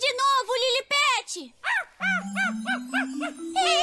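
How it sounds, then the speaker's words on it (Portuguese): An animated dog barks in a cartoon adventure, giving a series of high, yelping barks in quick succession against a rising background tone, with voices speaking nearby. "Late de novo, Lilipet!"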